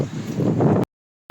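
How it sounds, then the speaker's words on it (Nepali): Wind blows steadily across the microphone beside a lake in Hamburg in summer, a rough, close rumble of gusts that cuts off abruptly partway through. "कस्तो फ्रेस हावा आइरहेछ नि"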